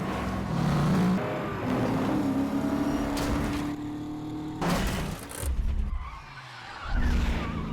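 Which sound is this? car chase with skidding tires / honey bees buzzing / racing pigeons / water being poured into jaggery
car chase with skidding tires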